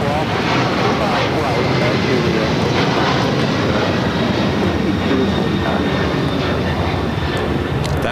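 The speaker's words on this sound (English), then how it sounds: "That is at Latam at 767-300ER heading to Lima, Peru, flight 2479." Latam Boeing 767-300ER airliner at LAX, bound for Lima, roaring steadily as a loud broadband engine rumble throughout, with talk over it.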